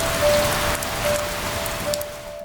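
Heavy rain during Typhoon Haiyan pours steadily over an empty town, a dense even patter and hiss on surfaces with a faint constant tone running beneath.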